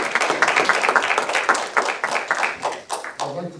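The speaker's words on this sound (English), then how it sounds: "Ladies and gentlemen, can we have a round of applause for our candidates?" An audience applauds the candidates at the close of a school PTA/PTSA candidates forum, a steady burst of clapping lasting a few seconds that thins toward the end.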